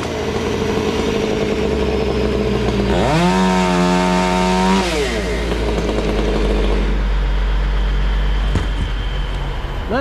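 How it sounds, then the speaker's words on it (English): A Husqvarna 500i chainsaw makes a pruning cut on a tree from a crane, idling loudly and then revving up to a steady high whine for about two seconds before dropping back. "I gotta make a pruning cut with the 500i and the crane."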